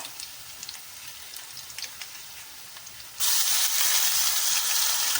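Ginger garlic paste frying in a pan makes a soft crackle and pop at first, then a much louder, dense hiss suddenly takes over for the last couple of seconds. No one talks.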